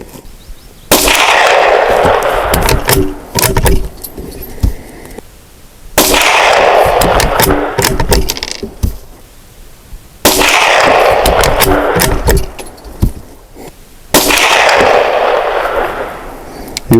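CCI Stinger .22 long rifle rounds fired from a classic rifle, four sharp, loud shots spaced several seconds apart, each trailing into a long, bright outdoor echo.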